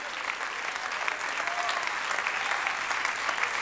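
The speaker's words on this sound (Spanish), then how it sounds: "Dame un aplauso a la banda" A church congregation gives the band a sustained round of applause. The dense, even clapping fills the whole moment at moderate loudness, with faint crowd murmur beneath.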